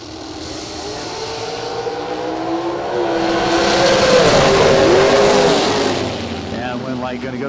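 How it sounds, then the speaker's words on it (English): A drag racing car launches down the strip at a Colonial Classic event, a loud engine roar swelling to a peak mid-clip and then easing as it pulls away, with an announcer talking over it. "Corbin, the premier moving House of Pain Performance dragster, dialed in 447 again"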